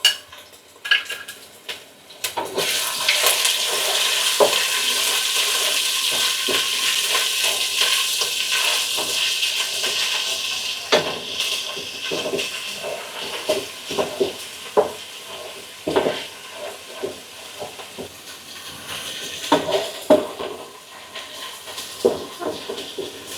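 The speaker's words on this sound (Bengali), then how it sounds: "এটা তেলের উপর দিয়ে দেব" Ginger garlic paste dropped into hot oil for pulao bursts into a loud, broad sizzle that slowly settles, followed by scattered spoon-on-pan clinks and scrapes as it is stirred.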